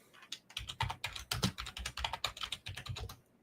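Rapid clicking of keys on a computer keyboard, a steady run of close, crisp taps heard alone without any voices.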